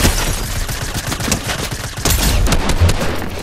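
Rapid bursts of gunfire from Fortnite fill the whole stretch, loud and close, with dense overlapping shots and a few heavier impacts.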